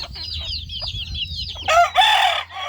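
Hen with three chicks on a poultry farm, close: a run of quick high chick peeps followed by louder, harsher clucking calls from the fowl near the end.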